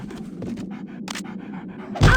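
A dog pants in quick, breathy bursts in Metal Gear Solid: The Twin Snakes, steady and close for about two seconds. A louder, harsher burst of noise cuts in at the end.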